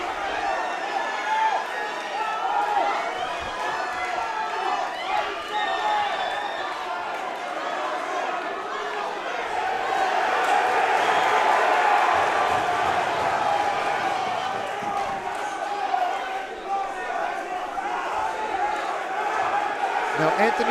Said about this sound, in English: Let's let the crowd do the talking for the final 30 seconds of this fight